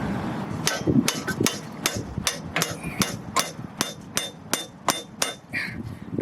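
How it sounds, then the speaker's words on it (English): A hammer taps a part of a manual gearbox being installed in a Lexus IS300 over a dozen times, light metallic knocks at an uneven rhythm, close by, with faint rustling between strikes. "I'm just gently tapping it, by the way."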